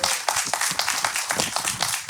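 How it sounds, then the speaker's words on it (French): Applause from the audience at a public hearing of Paris mayoral candidates on social exclusion: dense, steady clapping that fills the room for a couple of seconds, with a little faint voice mixed in. "on applaudit Rachid"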